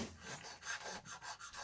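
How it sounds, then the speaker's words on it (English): Sandpaper scrubs back and forth across the wooden neck pocket of a guitar body in quick, rhythmic rasping strokes, close and fairly quiet. "I just sanded down this pocket"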